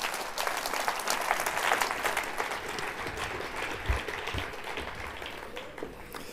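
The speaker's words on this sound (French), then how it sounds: "Et vous pouvez applaudir nos 3 orateurs." An audience at an economic seminar applauds three speakers, a dense, even wash of clapping that holds steady and fades slightly toward the end.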